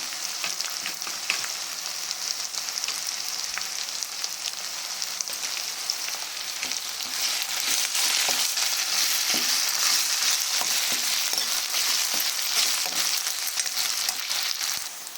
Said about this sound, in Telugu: ఉల్లిపాయలు ఎర్రగా వేగినాయి కాబట్టి ఇప్పుడు టమాటా వేసుకుందాం.